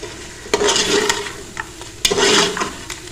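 Ground coriander and cumin roast with cooked mutton in a dry pan, the spices sizzling softly as a spoon stirs and scrapes in two bursts with brief pauses between.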